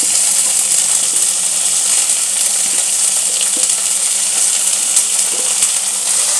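Onion, ginger and capsicum frying together in hot oil make a loud, continuous, dense sizzle with a few faint metallic ticks, steady throughout with no voices.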